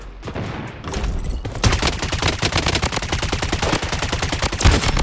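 Rapid automatic gunfire from the Blood Strike shooter game, a dense rattling stream of shots after a quieter opening second, loud and close, with occasional heavier bursts and no talking.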